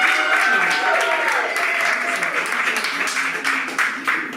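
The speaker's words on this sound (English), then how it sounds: "Let's give him one more round of applause." A poetry event audience applauds a poet with a dense, sustained wash of clapping, fairly loud and steady, with a voice talking over it.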